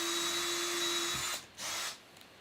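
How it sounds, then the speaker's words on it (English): A power drill bores through metal with a loud, high, steady whine that stops abruptly, followed by a short second burst of drilling and then quiet. "That is too fast for the drilling through metal."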